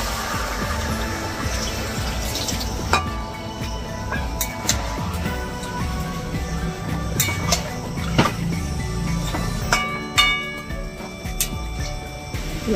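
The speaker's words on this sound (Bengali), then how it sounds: "দেখো একটু জল দিয়ে দিচ্ছি।" Water is poured into a pot of browned chicken for a biryani, a soft, continuous splashing flow with scattered clinks and knocks of the pot over the top.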